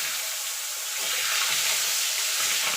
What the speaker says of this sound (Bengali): আলুগুলোকেও লাল লাল করে ভেজে নেবো